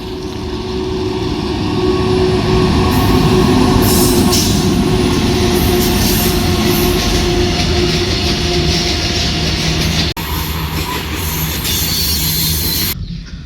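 A train runs past on a railway line beside a village in Telangana, a loud, steady rumble with wheel clatter and squeal that fills the whole stretch, close by and continuous with no voices.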